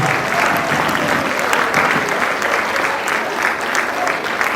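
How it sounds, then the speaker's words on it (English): A room full of people claps steadily and loudly, a dense, sustained wash of applause with no voices standing out. "A round of applause for all international people for embracing today."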